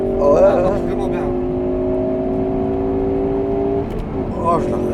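A Ford Focus ST four-cylinder engine revs and holds a steady, sustained drone for several seconds, loud and near, with a brief rise at the start and end as people talk over it.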